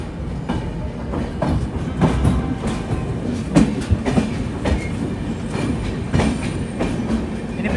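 Humsafar Express from Agartala to Bengaluru running near Malda Town: a dense, constant rumble of carriages with rhythmic wheel clatter and occasional louder knocks, close and steady, with no voices.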